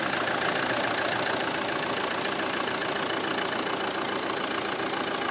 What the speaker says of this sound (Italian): Sentiamo il motore al minimo senza trattamento.